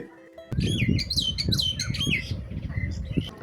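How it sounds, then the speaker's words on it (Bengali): Several birds chirp and squawk in quick overlapping calls by the Meghna river in rural Char Kishoreganj, Narayanganj, with a steady low wind rumble underneath and no talk. "পারলে অনেক বাতাস পাবেন, পাখির ডাক পাবেন।"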